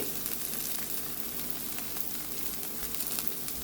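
Paneer tikka masala frying in a pan as chili powder, turmeric, chicken masala and salt are stirred in, a steady, close hiss of sizzling oil running throughout with faint scraping of the stir.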